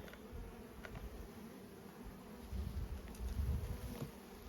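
Honeybees buzz steadily around an open backyard hive, a dense, continuous insect drone that swells louder toward the end as more bees fly close.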